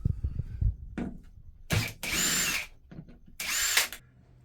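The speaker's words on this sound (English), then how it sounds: "I've undone all the screws on the battery box." A power drill whirs in two short bursts, near and moderately loud, undoing screws on a caravan battery box, with small clicks and handling knocks between the runs.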